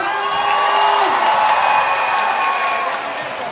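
Audience at a Safari World show in Thailand clapping and cheering, a loud steady wash of crowd applause with a sustained tonal voice or whoop running through it and some talk mixed in.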